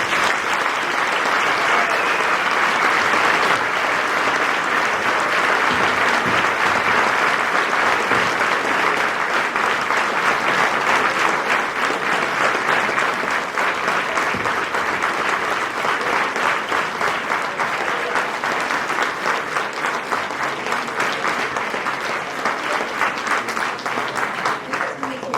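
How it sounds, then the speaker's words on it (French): A hall audience at the 2020 New Year's greetings ceremony in Angresse gives sustained, loud applause, an even roar of many hands clapping that holds steady for over twenty seconds. "Donc je vous demande de l'applaudir."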